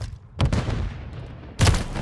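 Two heavy blasts with broadband bursts, a grenade explosion and gunfire in the Call of Duty video game, the first near the start and a louder one about a second later, with low rumble between and no talk.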